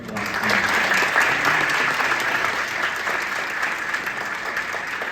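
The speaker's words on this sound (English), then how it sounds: "One more round of applause" An audience at a student medical innovation challenge breaks into a sustained round of applause, many hands clapping densely and evenly, loud and continuous throughout.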